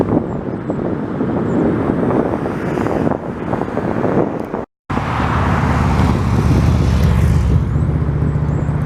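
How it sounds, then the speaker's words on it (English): A loud, steady jet engine roar dominates, broken by a brief dropout midway, then a deep rumbling drone with low tonal hum as a large wide-body Qatar Airways airliner passes close in Montreal. "Another interesting plane."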